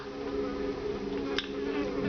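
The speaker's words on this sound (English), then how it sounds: "where that fly noise is coming from" A short, steady buzz of flies in the game Vampire: The Masquerade – Bloodlines, a close, constant hum with one brief flare, heard without voices.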